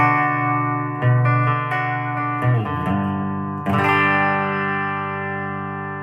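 Distorted electric guitar chords on the bridge pickup ring out through a Fender Champion 20 amp on its green setting, a few strums and sustained notes that decay slowly, bright and loud with no voices.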